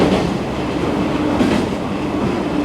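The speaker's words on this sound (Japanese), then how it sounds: "阿波池田の次の佃駅を発車。" A JR Shikoku Dosan Line train departs Tsukuda Station and runs on, heard from inside as a loud, steady rumble of wheels and carriage noise with no voices.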